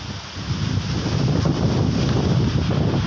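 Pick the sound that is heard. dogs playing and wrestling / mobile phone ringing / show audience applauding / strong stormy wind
strong stormy wind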